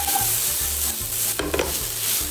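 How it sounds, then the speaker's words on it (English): Tomato paste cooks in a pan for bolognese, giving a dense close sizzle with scraping stir strokes and a few brighter crackles midway, with no talking. "we now need to really cook off the tomato paste"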